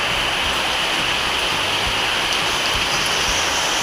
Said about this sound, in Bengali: দেখো ঝরঝর বৃষ্টি পড়েছে